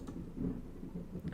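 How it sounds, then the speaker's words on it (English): Low, rolling thunder rumbles steadily for just over a second, a dull, moderately loud roar with no voices over it. "I heard that thunder."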